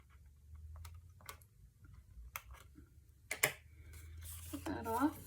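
A few short, crisp snips near the mic, followed by a brief rustle of paper, over a low background hum.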